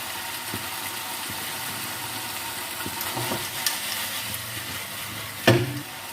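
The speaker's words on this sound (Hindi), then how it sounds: "मकरोनी को हम मिक्स कर लेते हैं" Macaroni being stirred into spiced ketchup in a pan, with a steady low sizzle under soft scraping stirs and one sharper clatter near the end.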